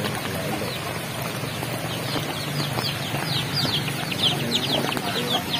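Chickens cluck continuously on a farm flooded during Typhoon Maring, a busy mix of nearby clucks and squawks over a steady noisy outdoor background.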